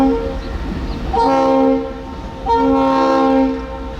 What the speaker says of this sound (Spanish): Con su silbato Leslie RS3L haciendo eco en todo el patio